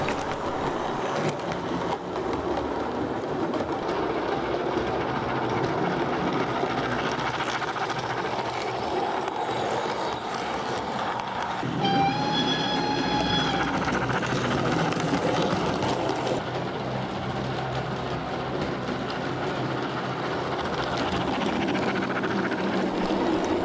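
A small DCC-controlled model train, a G5 locomotive pulling a through train, rumbles steadily along its layout track with a whirring motor hum, wheels clicking faintly, close and continuous.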